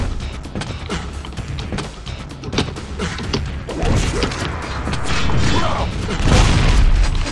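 Rocket launcher blasts in the first-person shooter Quake III Arena rumble through a noisy, continuous game soundscape, with heavy booms and thuds rising in intensity toward the end, close and loud.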